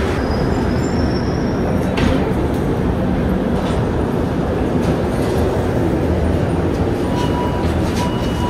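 An underground metro train runs with a loud, continuous roar and rattle of wheels on track, steady throughout, with faint squeals rising above the rumble.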